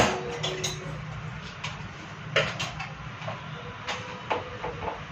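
A bowl of biryani being handled for a microwave in a home kitchen: a scatter of light clinks and knocks of dishes over a low background hum, with no voices.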